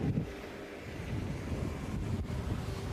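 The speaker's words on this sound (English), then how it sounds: "It's a little windy out right now" Steady low rumbling wind buffets the microphone throughout at the Talladega race track, a continuous outdoor roar with no speech.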